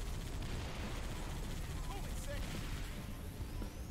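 Dense, continuous gunfire and explosions roar in the shooter game Halo 3: ODST, a loud, unbroken barrage of combat noise.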